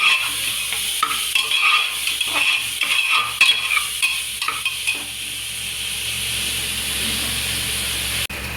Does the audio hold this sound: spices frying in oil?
yes